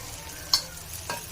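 Onions and four green chillies sautéing in a pan give a steady sizzle, with two sharp scrapes of a spatula stirring them close by, no talking.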